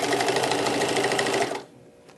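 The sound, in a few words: sewing machine stitching rows of a rag quilt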